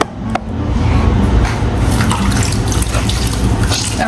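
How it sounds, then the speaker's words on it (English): Socks being hand washed in a basin of water, a continuous close sloshing and splashing of water and wet fabric, steady and fairly loud, with no speech. "right now I am washing the socks of my husband"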